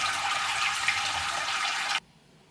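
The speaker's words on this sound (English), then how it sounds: "I'm literally just gonna pour warm water over it until I hit 12 liters." Warm water poured steadily over malted grain during home beer brewing, a continuous splashing rush that cuts off abruptly near the end, with no voices.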